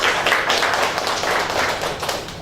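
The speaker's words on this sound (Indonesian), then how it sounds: "beri aplaus buat Anda semuanya" Audience applause at an Indonesian talk or seminar, a dense, steady wash of many hands clapping throughout, fairly loud and unbroken.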